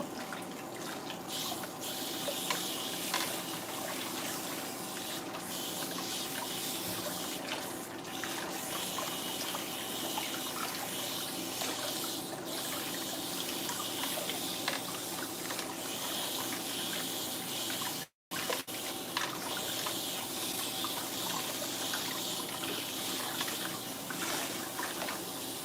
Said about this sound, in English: So if you notice, I thoroughly rinse my hair on purpose.